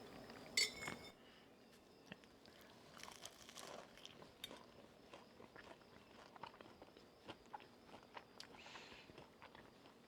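Crispy pastry of a strawberry pie being bitten and handled, with a sharp crackle at the start followed by quiet crunching, clinking and small rustles, close and soft.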